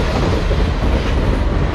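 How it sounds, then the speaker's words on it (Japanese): A train rumbles past close to a beach-side shack at the seaside, a dense steady roar of wheels and rail clatter lasting throughout with no voices. "電車、おお、電車来てます。"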